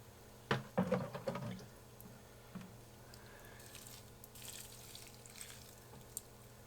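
Water poured into a worm bin to moisten the bedding in an Urban Worm Bag V2 composting system, heard as a few close splashy, squishy bursts early on, then a faint trickle and soft rustle fading out.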